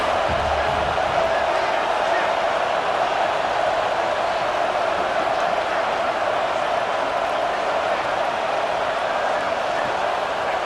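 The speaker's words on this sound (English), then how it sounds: "And the crowd coming to Layfield trying to help this defense down in the red zone" Stadium crowd noise in EA Sports College Football 26, a steady roar from the stands in the red zone, continuous and even throughout, sitting under a commentator's play-by-play.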